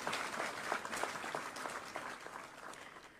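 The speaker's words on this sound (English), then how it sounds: "I'll just ask that we give ourselves a round of applause." Audience applause at a formal legal gathering marking a finish, a steady wash of many hands clapping that gradually fades over a few seconds with no voices.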